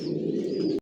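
A close, low, sustained coo from racing pigeons, original racer breeding pairs kept in a home loft, heard alone for under a second before cutting off.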